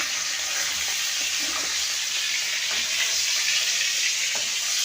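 Chicken frying in a pan for chicken kosha, a loud, dense, unbroken hiss of sizzling oil that holds steady throughout, with only faint hints of movement in the pan and no voices.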